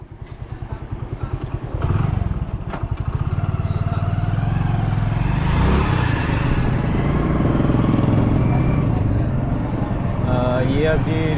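Motorcycle ride captured on a GoPro: the engine revs up and settles into a steady, loud close-up drone with rattling, plus a surge of wind rush midway, with no speech over it.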